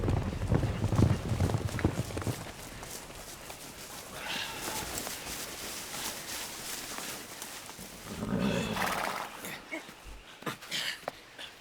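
Horses shift and walk with scattered hoof clip-clops and restless movement, some stretches louder and busier, in a quiet outdoor evening scene.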